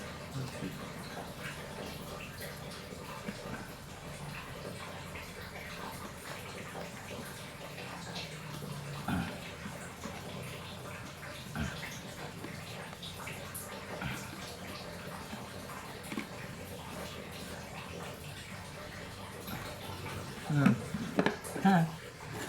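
Tap water runs steadily for over twenty seconds, a continuous hiss and splash close by, while someone talks over it and a few brief clatters come near the end.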